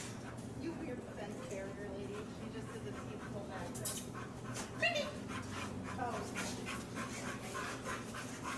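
Several dogs whimpering, yipping and panting close by in an excited greeting, with occasional soft barks and people talking in the background.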